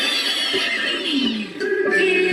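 A voice imitates a horse neighing, a single drawn-out whinny with a wavering pitch that falls and then rises, heard close and alone.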